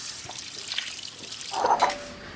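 Water pours and trickles as liquid is drained off, a splashing gurgle that swells briefly louder before settling into a faint dribble.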